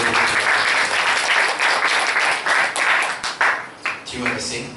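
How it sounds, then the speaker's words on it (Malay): A hall audience gives loud, dense applause to workshop presenters, sustained for several seconds and tapering off near the end. "sila berikan tepukan yang gemuruh kepada mereka"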